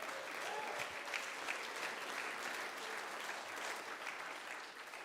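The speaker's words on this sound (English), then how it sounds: "Give one more round of applause for Jesus before you move." A church congregation applauds during a service, a sustained wash of clapping from many hands that stays loud and even throughout.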